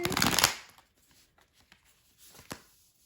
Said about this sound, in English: Gonna give it a solid shuffle real quick here.